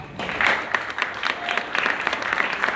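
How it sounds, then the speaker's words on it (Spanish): A concert audience at a guarania music event breaks into steady applause, a dense patter of many hands clapping at moderate distance that continues evenly throughout. "para quien pido un aplauso"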